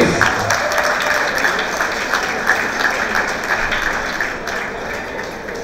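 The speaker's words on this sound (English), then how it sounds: "Give a big round of applause" A large audience at a graduation ceremony and cultural festival claps steadily, dense sustained applause that holds at a loud level for several seconds before easing slightly.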